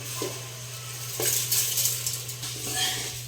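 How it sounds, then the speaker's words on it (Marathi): Soaked green moong beans sautéed in a pan, with a spoon scraping and clinking against the metal over a soft frying hiss, close and fairly quiet, with no talk. "मूग घालून झालेत आपले, पुन्हा 1-2 मिनिटं परतून घ्यायचे"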